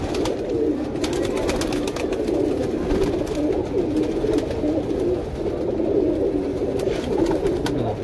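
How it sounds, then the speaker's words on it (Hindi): Sharangpuri pigeons coo in a steady, continuous low murmur from a loft at home, several birds overlapping close by with no talk. "इसमें टोटल सारनपुरी कबूतर है भाई।"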